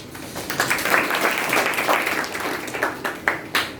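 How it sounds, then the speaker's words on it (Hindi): Students applauding in a live school classroom, a burst of hand claps that swells and fades in uneven waves, with a few sharp single claps near the end. "ताली बजाइए।"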